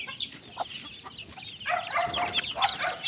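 Chicks in a pen pecking at scattered feed, with soft clucks and chirps from poultry, faint at first and then busier and denser in the latter half.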